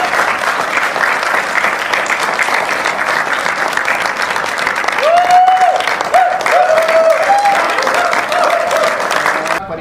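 Steady, loud applause from an audience at a company Republic Day celebration, honouring the firm's CMD, with a brief voice or whistle rising above the clapping midway.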